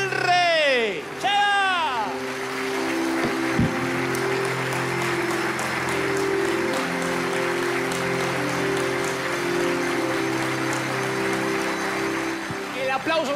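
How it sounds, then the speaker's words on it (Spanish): Church audience applauding the King at a Dante Gebel event, steady sustained clapping from a large crowd with cheering voices and a shout near the start, continuing loudly throughout. "Dale un aplauso maravilloso al Rey"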